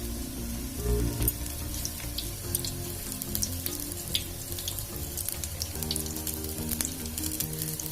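Jackfruit and spinach pakoras fry in a kadai with a steady, close bubbling sizzle of hot oil, faint clinks and tonal hums running underneath throughout.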